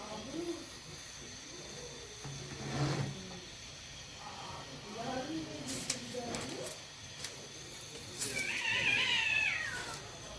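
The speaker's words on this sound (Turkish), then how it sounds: "Kedilerin sesi de geldi" Cats meow a few times in the background of a home scene, with people talking and sardines frying in the kitchen; one higher, drawn-out cry stands out near the end.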